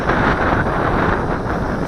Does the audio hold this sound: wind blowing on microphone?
yes